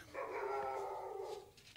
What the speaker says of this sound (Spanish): Ese es Dan, el perro de Del.